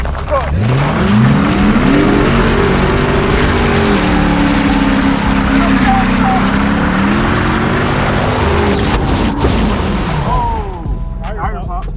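A 2006 Dodge Charger R/T drifts with a loud, sustained, revving engine rising and falling while the tires slide and squeal, close up, with people talking over it.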